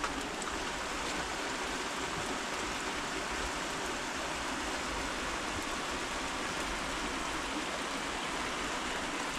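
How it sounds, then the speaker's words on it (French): Rain falls steadily along a mountain trail, a dense, even hiss of drops with no pauses, close and moderately loud. "Oh, il pleut."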